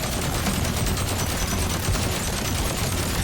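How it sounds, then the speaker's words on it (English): Rapid, dense cannon and gun fire from a destroyer in the video game Polaris, a continuous loud barrage of overlapping shots with no pauses, filling the whole stretch. "It's got its own cannons and guns beaming you, going pew pew"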